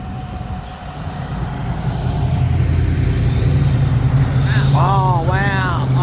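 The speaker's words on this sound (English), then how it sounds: "that HR sounded mean. It was supercharged." A supercharged Holden HR classic car drives past at a classic car cavalcade, its engine rumbling low and building louder as it nears. Voices talk over it near the end.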